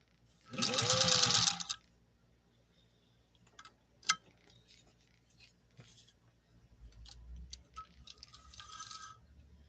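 A Singer 201-2 sewing machine stitches through leather in a loud, rapid burst of about a second, followed by quieter handling clicks, a sharp tap and faint rustling.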